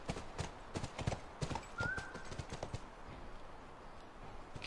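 Horse hooves clip-clopping in a steady trot with a brief whinny partway through, from The Last of Us video game, fairly close and moderately loud.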